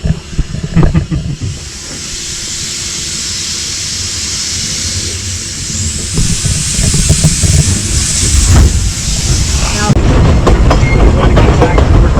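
A loud narrow gauge steam train on the Cripple Creek & Victor railroad rumbling and hissing nearby, steam venting strongly and wheels clacking as it slowly backs up.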